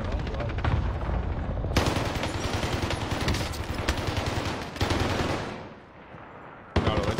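Video-game gunfire from a weapon: loud, rapid automatic bursts close up, coming in several stretches separated by short pauses.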